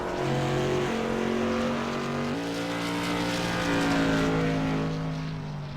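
A number 29 race car from Medford, New York, sponsored by Wolfpack Performance and Evolution Race Cars, laps the Bullring oval at Las Vegas Motor Speedway, its engine droning loud and steady with pitch shifts as it works through the turns.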